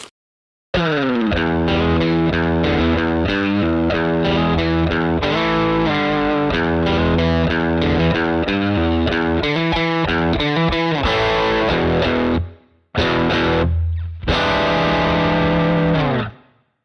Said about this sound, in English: It is the Afterlife pedal by VvCo. It's a distortion and fuzz pedal.